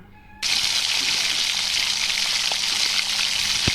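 Luchi, puffed fried bread, frying in hot oil: a loud, steady, close sizzle that starts abruptly and continues without a break, with faint stirring or clinking underneath.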